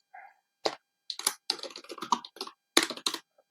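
Close, crisp clicks of typing on a computer keyboard, irregular bursts of keystrokes with short pauses between them, heard alone without talk.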